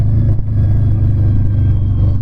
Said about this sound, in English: So let's see that rumble deceleration.